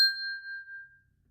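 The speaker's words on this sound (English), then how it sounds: "Once in a blue moon, I use it to double as a ritual bell." A thrift-store mortar and pestle struck once like a ritual bell gives a single loud, bright ding that rings clear and decays over about a second into silence.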